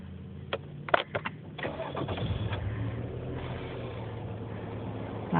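A car engine being started back up, with a few clicks and a crank before it catches and settles into a steady idle, loud and close.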